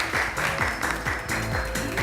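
An audience applauds with loud, steady clapping that keeps up at an even pace throughout.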